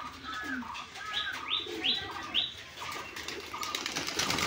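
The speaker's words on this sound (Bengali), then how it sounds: "খুব সুন্দর বাজি পায়রাটা" Tumbler pigeons flap their wings in a series of quick rustling bursts, with soft chirps and coos scattered among them. The sounds come from close by and are heard alone with no talk.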